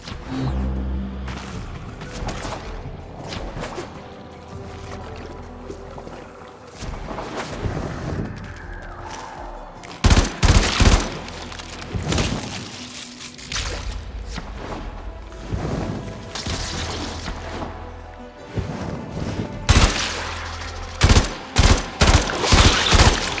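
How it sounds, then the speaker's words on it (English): Weapon fire and explosions from the sci-fi shooter video game Warframe, with bursts of shooting and sharp booms that grow denser in the second half over a steady game soundscape. "Destroy it with weapon fire."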